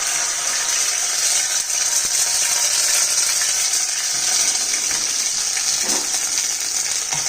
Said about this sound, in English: Now add a tablespoon of ginger garlic paste to the oil.